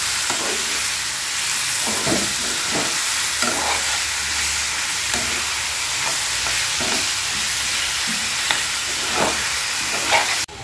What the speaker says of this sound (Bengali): এবার আমি এর মধ্যে চিকেনটাকে দিয়ে দিলাম। এবার এটাকে বেশ কিছুক্ষণ ফ্রাই করতে থাকবো।